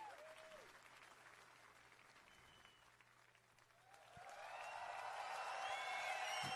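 An enthusiastic crowd at an EA E3 show claps and cheers, applause fading down at first and then swelling again into a louder, sustained burst of clapping.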